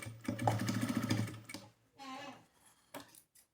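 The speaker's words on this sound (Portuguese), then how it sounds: "passo no pé de máquina uma costura reta de um lado pro outro" A sewing machine runs a straight seam across a small phone-pouch project, a quick rattling whir of needle strokes in short runs separated by pauses, close and moderately loud.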